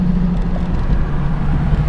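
A small block Chevy V8 in a 1934 Ford glass-bodied Gibbon car idles with a low, steady rumble. The engine is close and alone, without talk.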